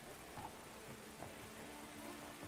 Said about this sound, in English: splash in the puddles as the rain bounces off of Lore's own armor